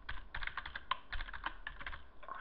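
Rapid typing on a computer keyboard while entering text in Paint.NET, a close, busy patter of light key clicks in uneven bursts with one sharper keystroke, alone without talk.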